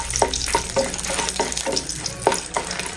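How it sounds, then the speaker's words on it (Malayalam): Dried red chillies, about ten, roasting and being stirred in leftover oil from frying fish, giving a steady close sizzle with repeated scraping stir strokes, no talking. "മീൻ ഫ്രൈ ചെയ്തെടുത്തിട്ട് ബാക്കിയുള്ള എണ്ണയിൽ ഒരു 10 വറ്റൽമുളക് ഇട്ട് ഒന്ന് റോസ്റ്റ് ചെയ്തെടുക്കാം"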